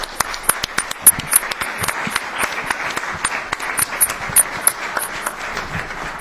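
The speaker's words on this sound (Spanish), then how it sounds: "yo solicito entonces que demos un aplauso en solidaridad a la compañera que nos dio el testimonio" An assembled audience claps in solidarity after a woman's testimony, with sharp individual hand claps scattered unevenly through a thin, lively round of applause.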